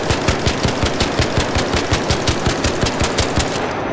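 Rapid automatic fire from the Bettina rifle fitted with the stable stock 3 in a video game, a loud steady stream of sharp shots at an even fast rhythm, close and with no talk.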